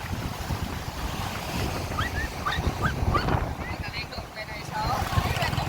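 Strong wind roars and buffets across Bagasbas beach, a steady rushing broadband noise with distant voices and faint bird calls under it.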